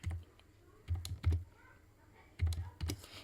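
Keystrokes on a computer keyboard while a captcha is entered during an online admission registration form, in short clusters of quick, fairly close clicks separated by brief pauses.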